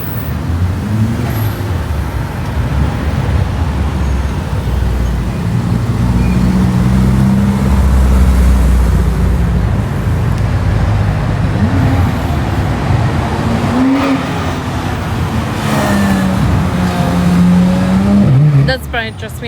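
Cars pull out of a car show at the Auckland Showgrounds, their engines rumbling and revving close by in a continuous roadway drone, with people talking over the passing traffic.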